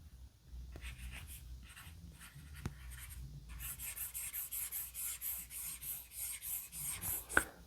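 Stylus strokes across a Kindle Scribe screen make a close, papery scratching and rubbing sound, coming in quick repeated strokes that grow busier toward the end, with no voices.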